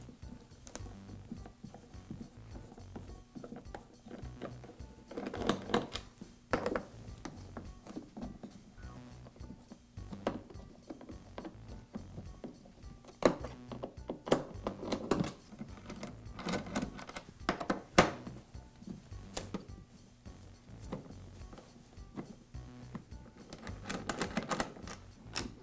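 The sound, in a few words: wrench removing screws from DeWALT planer top cover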